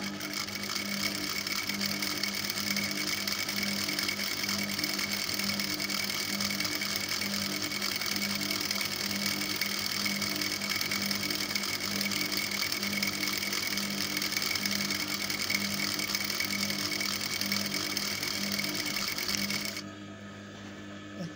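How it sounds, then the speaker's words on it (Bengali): A sewing machine stitches the side seam of a palazzo skirt in one long continuous run, a close, steady mechanical whir that drops off just before the end. "নিয়ে এই সাইডটাও সেলাই দিয়ে নেব"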